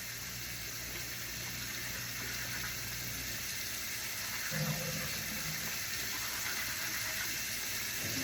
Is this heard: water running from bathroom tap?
yes